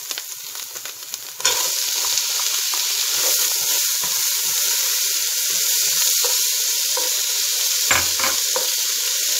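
Peas drop into a hot pan and burst into a loud, steady sizzle that continues to the end, with a few small clatters and stirring sounds over the frying.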